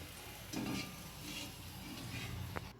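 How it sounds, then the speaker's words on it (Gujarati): Potato vada for vada pav fry in a small amount of oil, giving a soft, faint sizzle over a few seconds with a couple of light utensil touches, and no talking. "અને આ થોડા થોડા તેલમાં તળશું"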